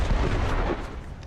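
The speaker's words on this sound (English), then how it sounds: "it's funnier shooting grenades out of a shotgun" Video game explosion from grenades fired out of a shotgun: a single loud, heavy booming burst that rumbles and slowly fades over about a second.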